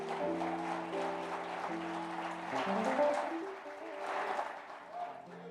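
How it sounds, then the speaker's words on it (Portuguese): A church congregation claps during a celebration service, a soft, diffuse patter of hands spread under sustained organ or keyboard chords and a voice, moderately distant and steady throughout. "Isso, aplauda ao Senhor."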